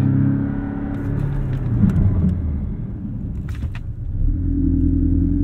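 A 2017 Porsche 718 Cayman S slows hard from about 50-60 mph in a brake test, heard from inside as a steady low road and engine rumble that dips and swells, with a brief mechanical rattle.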